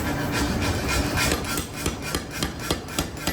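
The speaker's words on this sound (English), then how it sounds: "now I'm gonna take and hammer this down into the die that we just made" A power hammer pounds 7/8 hex steel bar down into a die in a forge, delivering fast repeated metallic blows in a steady rhythm over a constant loud machine drone.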